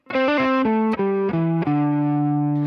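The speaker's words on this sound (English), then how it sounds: "then we do that little hammer on and pull off." A distorted electric guitar plays a quick hammer-on and pull-off figure, notes sliding down step by step before ringing out on a long sustained tone.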